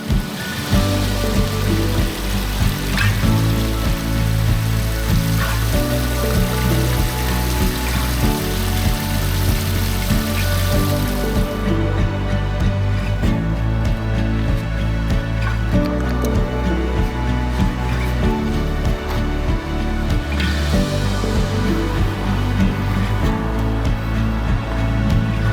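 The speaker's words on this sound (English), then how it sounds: "Little waterfall here, little creek." A small waterfall spilling into a little creek, a steady close splashing and trickling rush that runs loud and unbroken from start to finish.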